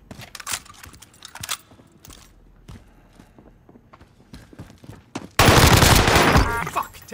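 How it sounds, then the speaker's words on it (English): Heavy gunfire in Call of Duty Warzone Plunder: scattered footsteps and single shots come first, then a sudden loud, sustained rapid burst of automatic fire near the end, with no talking. "Taking heavy fire."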